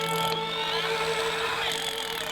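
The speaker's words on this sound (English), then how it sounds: "I welded a long steel rod onto a drill bit for a powerful cordless drill." A powerful cordless drill turns a long steel rod with a washer auger welded on the end, boring into dirt while searching for an 18th-century copper mine; a loud, steady motor whine with grinding tones runs throughout.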